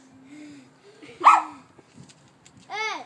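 A voice barks a few times in imitation of a dog, short yelping calls between soft babbling, close and fairly loud.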